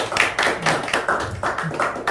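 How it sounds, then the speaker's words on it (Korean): A seated audience claps warmly for an arriving vice minister at a Saturday forum, a dense, steady patter of many hands close by that swells in several waves over about two seconds. "차관님 오실 때 좀 뜨거운 박수 좀 부탁드리겠습니다."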